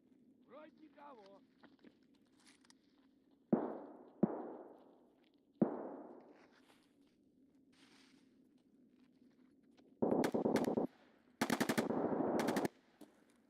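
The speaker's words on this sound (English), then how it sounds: "someone's shooting in the garages." Gunfire in the video game Escape from Tarkov: a few single loud shots with echoing tails, then two dense bursts of rapid automatic fire, all over a quiet background hum, with speech heard briefly early on.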